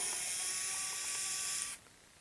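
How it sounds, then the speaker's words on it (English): An electric screwdriver whirs steadily, removing screws from a Bose Wave 3-disc CD changer during repair, a close continuous buzz lasting about two seconds before cutting off to quiet. "now we're gonna finish taking these screws out"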